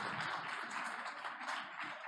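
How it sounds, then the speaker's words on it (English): An audience at a startup pitch event applauds continuously, welcoming the jury with a steady, moderately loud wash of clapping. "warm applause"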